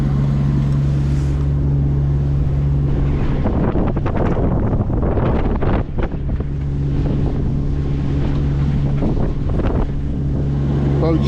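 Strong headwind buffets a sailing boat battling an opposing tide in rough water near Puffin Sound, loud gusty roar and microphone wind noise with a steady low engine drone underneath.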